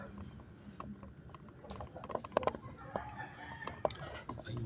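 Chickens and a rooster cluck and crow in short bursts, with faint background noise and a few brief voices.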